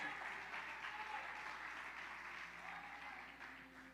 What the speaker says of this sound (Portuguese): Pode aplaudir mais forte, porque Deus merece.